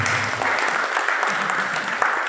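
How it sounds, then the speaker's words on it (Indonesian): An audience at an entrepreneurship training session breaks into applause, a steady, dense wash of clapping from a modest crowd that stays fairly even throughout with no clear voices over it. "kasih tepuk tangan dulu buat Ibu Marsila."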